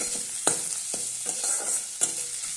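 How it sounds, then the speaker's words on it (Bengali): Onion, garlic paste, ginger paste and whole chilies sizzle steadily in a little oil in a pan, with a few sharp scraping stirs of a spoon at irregular intervals and no voices. "পেঁয়াজ, রসুন, আদা বাটা আর গোটা লঙ্কা ফ্রাই করে আমি দিয়ে দিয়েছি"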